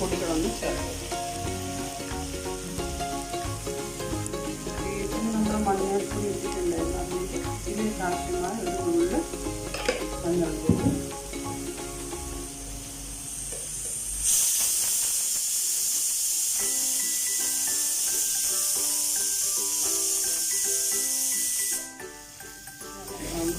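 Beef with black pepper, Wayanad style, stir-frying in a pan: clattering stirring and spatula knocks over sizzling oil, then a steady loud hiss of frying.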